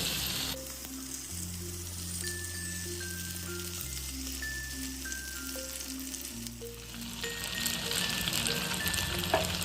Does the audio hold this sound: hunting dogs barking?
no